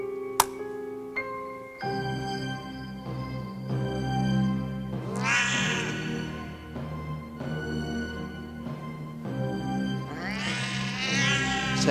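A cat meows in a 1995 horror film scene, with two drawn-out, wavering cries near 5 and 11 seconds over a steady low hum and a tonal musical bed.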